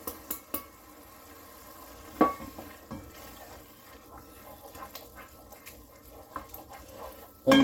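Turmeric, chili powder and a pinch of asafoetida frying for a dhal of split yellow peas and red lentils, a soft sizzle with scattered scraping stirs and a few sharp utensil knocks against the pot, close and alone.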